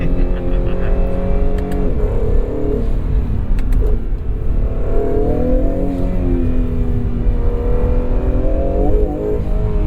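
A 2022 Acura NSX Type S engine pulls hard in low gear, its revs climbing and dropping in repeated surges, loud and close from inside the car over a constant road rumble.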